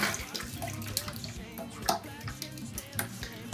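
Beer splashes and gurgles as it is poured into a homebrew mix, with running water and faint clinks nearby, under a low background hum.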